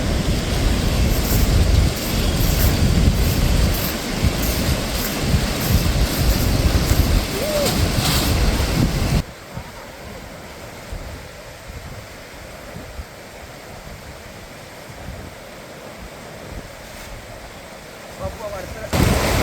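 River near Chooralmala in Wayanad, an area hit by landslides and flash floods, loud rushing water roaring close for several seconds, then dropping to a softer, more distant flow.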